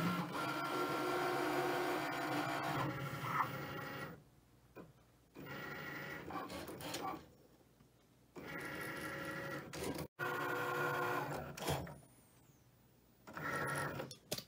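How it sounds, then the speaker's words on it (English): A Cricut cutting machine cuts cardstock with a steady whirring, clicking motor hum in several long runs broken by short quiet pauses as the carriage stops and restarts. "Press the C button and the Cricut button, and it's just going to start cutting."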